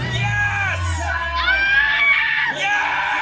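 A woman's wild, high-pitched scream cut into a dance-footage edit, with several rising and falling wails that break and restart loudly over about three seconds.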